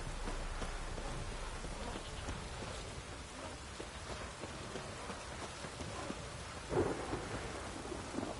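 Rain pours steadily alongside rolling thunder in the video game The Witcher 3: Wild Hunt, a dense, continuous storm with a louder rumble swelling near the end.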